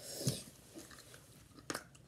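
Dollarama candy bitten and chewed, two sharp crunchy bites with softer chewing between, close up and quiet.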